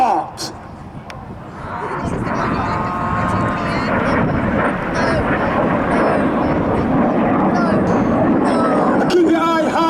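Red Arrows synchro pair jets roaring loudly overhead in a sustained, steady wash of engine noise during an air display, with crowd chatter underneath.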